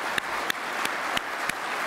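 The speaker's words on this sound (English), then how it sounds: "Give them all a big hand. They deserve another round of applause." A crowd claps steadily at close range, a dense wash of applause with a few sharper claps popping out now and then.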